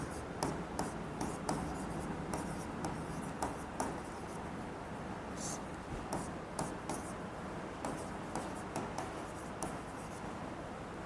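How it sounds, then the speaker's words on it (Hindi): Handwriting on paper, a pen or chalk scratching in short repeated strokes with quick taps, close and soft, steady across the whole stretch with no voice over it. "हाँ लिख दे रहा हूँ।"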